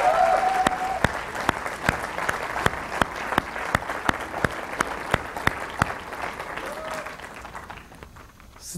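A church congregation applauds in praise of the Lord, sparse clapping with sharp, regular claps standing out in a steady rhythm, while brief voices and cheers rise faintly beneath before it trails off.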